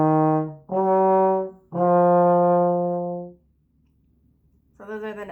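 A trombone plays the triplet figure from measure 18 slowly: three sustained, rich harmonic notes in a row, then a pause and the start of another note, loud and close with no talking.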